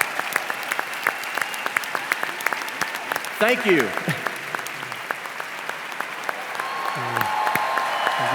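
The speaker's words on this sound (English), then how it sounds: "a round of applause." Audience applause at a 20th annual international sales convention, a broad steady patter of many hands filling the room, with a voice speaking over it briefly at the start and end.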